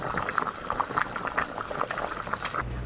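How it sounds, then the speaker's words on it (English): A pot of soup boils steadily, bubbling and gurgling at close range with no voices, before the sound cuts to a low hum. "That's the sound of a boiling casserole when your mother cooks soup."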